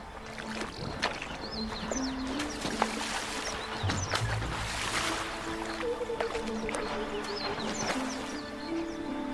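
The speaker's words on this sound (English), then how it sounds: "And it always involves a good splashing." An elephant splashes in a waterhole in the Pafuri region of Kruger National Park, with continuous sloshing and churning water at moderate loudness, close by, and faint bird calls in the background.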